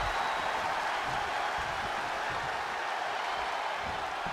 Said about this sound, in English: but the crowd is loving Sasha's act